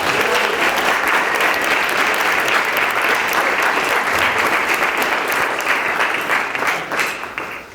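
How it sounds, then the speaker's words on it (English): Large crowd at a school board meeting clapping for fifth graders: a steady, full round of applause that holds evenly, then tapers off near the end. "Let's give them one more round of applause."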